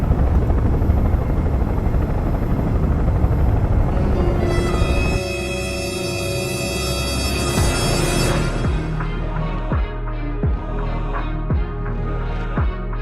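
A helicopter's rotor whirs loudly and steadily overhead, its pitch shifting as it passes, then settling into a rhythmic chopping beat with distinct repeating blade thumps toward the end.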